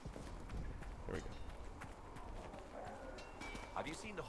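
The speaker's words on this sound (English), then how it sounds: "Have you seen the horses Master Daniel sent in position?" Horse hooves clip-clop in a video game, a steady trotting patter set under busy background game sound and murmuring voices.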